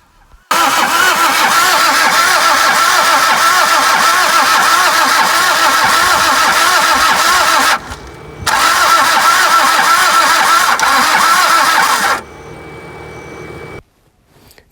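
A Toyota Corolla AE91, unstarted for ten years, cranks at length with a loud, fast rhythmic churning that stops briefly, resumes, then cuts out without the engine catching.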